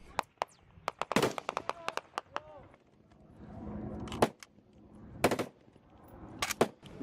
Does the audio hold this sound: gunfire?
yes